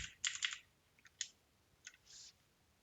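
A computer keyboard is typed on in a few quick bursts of light clicking keystrokes, close and fairly faint, separated by short pauses, with no talking.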